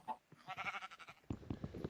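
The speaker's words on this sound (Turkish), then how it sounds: "Ama önemli bir şey tabii ki de yani koyun" Sheep in the Minecraft video game bleat in two quick wavering calls, one after another, clear and alone.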